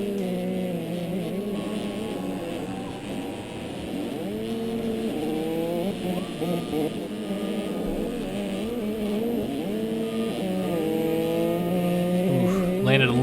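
Motocross bike engine in MX Simulator during a 2019 MX2 race at Teutschenthal, Germany, revving hard and continuously with rising and falling pitch through jumps and landings, a commentator talking over it throughout.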